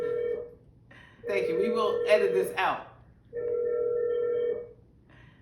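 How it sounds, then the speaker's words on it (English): A mobile phone rings in the middle of a recorded conversation. Two tonal ring bursts are heard, one at the start and one later, with people talking between them. "Excuse my phone."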